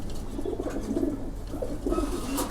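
Pigeons in a loft giving soft, low repeated coos close by, with faint chirps and no talking.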